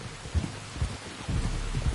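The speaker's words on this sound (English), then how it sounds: "You were right about the damn rain" Steady rain in a video game, a broad hiss of falling drops with low thuds and rumbles underneath, continuous and fairly close.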